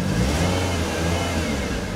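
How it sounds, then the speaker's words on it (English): LPG-converted car engine running on petrol and accelerating, a steady close mid-pitched engine roar that holds loud and even throughout. "Can also just do something like that by revving the engine."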